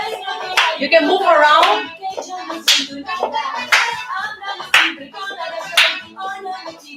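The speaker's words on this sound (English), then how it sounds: "Then you can clap here. You can clap here to know the rhythm." Hands clap in a steady rhythm, sharp close claps spaced roughly a second apart, while someone talks between and over them.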